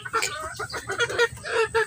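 Chickens cluck and chatter continuously close by, a busy overlapping flock sound.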